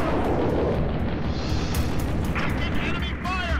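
Enemy fire in the video game Halo: Reach arrives as a dense, continuous roar of blasts and rumbling explosions, with a voice speaking over the barrage.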